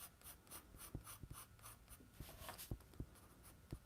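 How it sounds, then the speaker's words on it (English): A broad-tipped pencil sketches on paper, soft close-up scratching strokes with irregular taps, very quiet in a calm room. "So I'm going to switch here to this broader tipped pencil."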